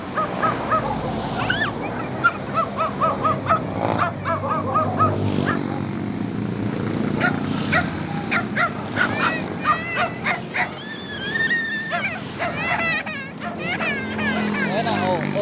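A dog barks in repeated yips and whimpers while people talk nearby; crows caw in the background.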